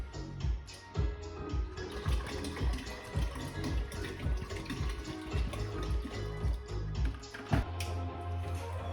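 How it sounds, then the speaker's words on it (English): Water poured into a homebrew keg over cold water and hops, a steady splashing pour with uneven gurgles and thumps, fairly close, with no talk. "Finish by topping up with some water here."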